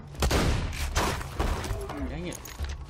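Gunfire in Borderlands 2 as a player shoots down projectiles from fenivores, dense bursts of shots and booms under ongoing game noise, with a person talking over it.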